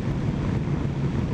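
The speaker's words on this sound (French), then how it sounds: "Là, il y a du vent." Steady broadband wind roar buffeting a rider on a Kawasaki ZZR 600 sport-touring motorcycle at speed, loud and constant with a low rumble underneath and no talk.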